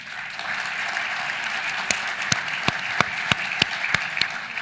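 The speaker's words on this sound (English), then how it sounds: "give a round of applause for Paul" An audience claps through a steady wash of applause at a conference session, with a few sharper, louder individual claps standing out near the microphone at irregular intervals.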